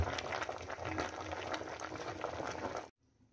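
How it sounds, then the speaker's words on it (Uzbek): A pot of water boils for a rabbit and pumpkin stew with a rolling, bubbling roar. It stops abruptly near the end, leaving near silence. "Qozonimizga solgan suvimiz qaynab chiqdi"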